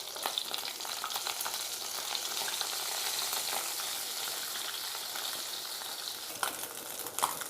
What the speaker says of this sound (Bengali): দেখুন আমার ডিমটা ভাজা হয়ে আসছে